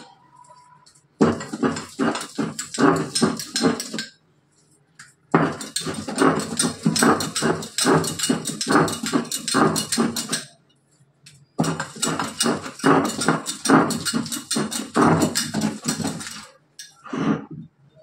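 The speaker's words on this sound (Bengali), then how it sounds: "দেখুন আমি এখন এগুলোকে শিলে বেটে নেব।" Shrimp mixture is ground by hand on a decades-old stone grinding slab, making rapid rhythmic gritty scraping strokes up close, in three long bursts separated by brief pauses.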